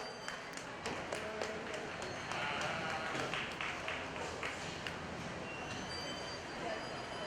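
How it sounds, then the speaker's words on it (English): A crowd applauds the judge at a 4-H and FFA market lamb show at a county fair, a steady wash of many hands clapping in a large open space, sustained and moderately distant throughout. "Let's give our judge a round of applause."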